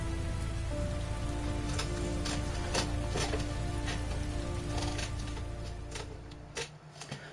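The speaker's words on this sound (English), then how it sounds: "you'll find that the game has far too much rain in" Steady rain pours across the whole stretch in the Heavy Rain Remastered video game, a dense broadband wash of drops striking surfaces, loud and constant with scattered sharper spatters.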